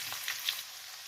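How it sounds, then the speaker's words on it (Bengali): A medium-sized onion frying in hot oil while making aloo palong shak bhaji, a steady soft sizzle with a couple of faint pops, alone and fairly quiet. "পেঁয়াজটা আমার হালকা করে ভাজা হয়ে গেছে"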